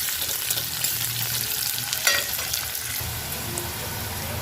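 Chopped onions hit hot oil for a shrimp and mixed-vegetable dish, sizzling loudly and steadily for the whole stretch, with the scrape of stirring and a brief sharper crackle midway.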